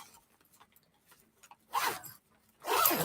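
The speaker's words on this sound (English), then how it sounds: "Zip from one side, have them meet in the middle." A durable two-way zipper on a bag being pulled in two quick rasping strokes, preceded by faint handling ticks, close and with no speech.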